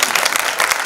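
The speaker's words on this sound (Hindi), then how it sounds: "एक बार जोरदार तालियां मिलता" Audience at a Hindi talk show with Mika Singh breaking into loud, dense applause, a steady wash of many hands clapping for under a second.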